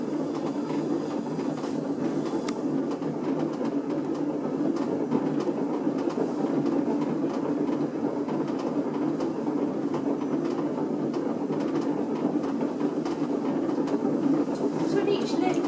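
A noisy pottery wheel spins steadily throughout, a constant rumbling mechanical drone with faint clicking, while someone centres and throws a clay cylinder; talk is faint or absent beneath the hum.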